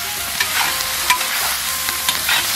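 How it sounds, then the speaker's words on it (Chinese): Tomatoes stir-fried with beef and ketchup in a hot wok, a loud close sizzle with repeated scraping strokes of the spatula at an irregular rhythm, no talking. "下入西红柿， 把西红柿汁炒出来"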